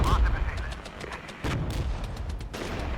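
Mortar and artillery fire in Regiments, a military strategy video game, lands as dense thuds, booms and crackling gunshots during a battle, with a voice talking over part of it.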